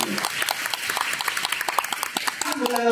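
A theatre audience at a Deyunshe crosstalk show in Tianjin claps for comedian Li Hedong, a brisk burst of many hands, loud and close throughout.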